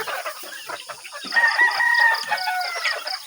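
Backyard chickens and roosters on a range cluck and call, with a rooster crowing in the middle, nearby and lively, no talk.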